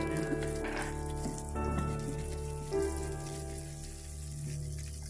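Chopped capsicum pieces, with finely cut garlic and green chillies, sizzle quietly in a frying pan, a soft steady crackle beneath a sustained low hum, with no one speaking.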